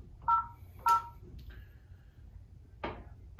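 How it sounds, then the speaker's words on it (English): An office VoIP desk phone keypad beeps as an extension is dialed, two short clear tones followed by a few soft clicks and a later tap, close and alone in a quiet room. "dial the extension you'd like to transfer to"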